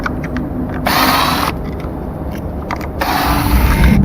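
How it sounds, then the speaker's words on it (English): Power screwdriver backing out screws from a self-balancing scooter, a loud steady whirring that runs in two bursts with a brief lull between, close up and with no talking. "There have 4 screws. 1, 2, 3, 4, and remove all of this."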